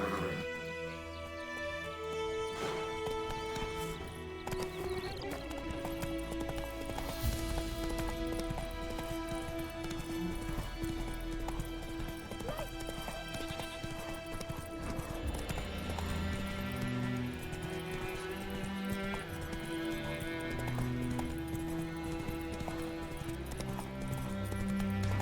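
Hoofbeats of Roach, the horse in The Witcher 3, clop steadily at a gallop over a loud swelling orchestral game score, with brief neighs and no talking.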